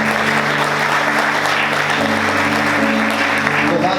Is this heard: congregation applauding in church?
yes